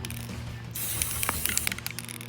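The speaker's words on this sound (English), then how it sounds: "So we're gonna spray this guy down. Nice black spray paint." Black spray paint hisses from an aerosol can onto a lock box for a trail camera, a sudden sustained spray that comes close and loud, broken by short bursts and nozzle spits.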